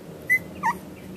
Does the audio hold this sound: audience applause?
no